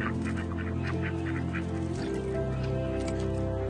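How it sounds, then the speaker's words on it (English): Ducks and geese quack and honk continuously at a park pond, loud and close, with a layered, overlapping chorus of calls and no talk. "There's a beautiful pond in the middle of the park with all the ducks taking their daily baths."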